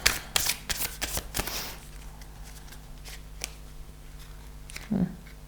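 A deck of brand-new tarot cards is shuffled by hand: a quick flurry of crisp, papery riffles and snaps up close for about two seconds, then quieter handling with a soft thump near the end.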